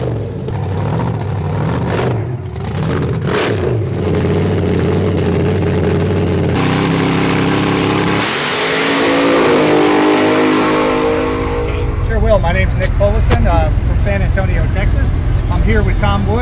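A fuel altered drag car with a Chrysler Wedgehead engine revs loudly at a 2013 drag racing event, its engine rising and falling in harsh surges as people talk over it.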